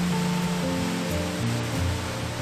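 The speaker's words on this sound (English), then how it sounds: "Our first stop was Tews Falls, a 41-meter ribbon waterfall, the tallest of all the waterfall in Hamilton" Tews Falls, a 41-meter ribbon waterfall in Hamilton, gives a steady, loud broadband rush of falling water that holds constant throughout, with no voices.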